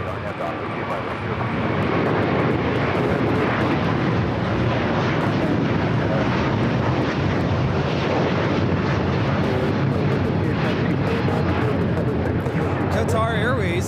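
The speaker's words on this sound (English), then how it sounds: "Qatar Airways 740 taking off to Doha on the A350-1000" A Qatar Airways Airbus A350-1000 bound for Doha takes off from runway 25 right at LAX, its jet engines building into a loud, steady roar that fills the whole stretch, with faint radio chatter at the start.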